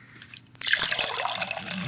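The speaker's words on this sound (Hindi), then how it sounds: "पानी ले लेते हैं थोड़ा सा" Water is poured for a metal displacement reaction demonstration, starting after a quiet moment with a couple of drips, then a steady splashing pour that continues to the end, close and clear.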